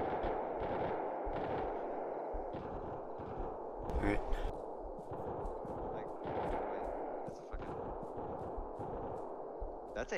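Gunfire in Arma 3, repeated sharp shots and rapid bursts, some near and cracking, others distant and echoing, with voices talking between them.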